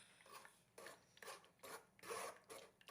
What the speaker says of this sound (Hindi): और इमली को छान लेंगे ताकि इसका पल्प जो है